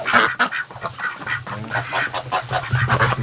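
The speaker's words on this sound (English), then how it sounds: "Oh, duckies." Ducks and geese wintering together call in a dense, continuous chorus of overlapping honks and quacks, close and loud throughout with no let-up.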